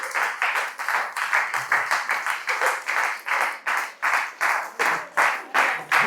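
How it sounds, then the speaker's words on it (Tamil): An audience claps hands in a sustained round of applause, loud and close, pulsing in waves of rhythmic clapping with no talk over it. "ஒரு வார்த்தை சொன்னதுக்கே இந்த கை தட்டுறீங்க"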